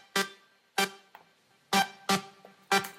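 A simple synth bleep melody run through a Guitar Rig amp plugin, heard as five sharp, loud, bright notes spaced out over a few seconds, each with a quick attack and short decay, with no voices.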